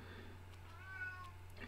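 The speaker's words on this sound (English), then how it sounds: "my cat's meowing out the door." A house cat meows from outside a closed door, a few drawn-out rising and falling calls standing out over a steady low hum, fairly faint and slightly distant.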